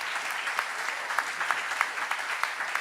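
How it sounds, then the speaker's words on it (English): A conference audience at an open-source event applauds steadily, a dense wash of many hands clapping at moderate distance with no talking. "Can we get a round of applause for Ben Ark, Jeff?"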